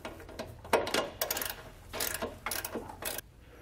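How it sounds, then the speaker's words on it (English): A ratchet clicks in short bursts while a 9/16 socket tightens a bolt on an air helper spring install on a 2020 Chevrolet, close and fairly quiet, several rapid ratcheting runs separated by brief pauses. "Then a 9/16 socket or wrench. We'll tighten this down."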